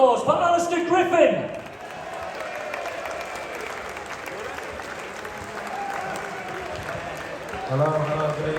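An audience at a live Gary Parkinson tribute event breaks into sustained applause for a singer, a dense, steady wash of clapping from a crowd, with a voice speaking over it at the start and end.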